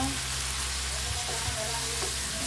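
Small pieces of bitter gourd (ampalaya) fry in a pan for an egg breakfast dish, giving a loud, dense, continuous sizzle with a faint low hum beneath and no talking.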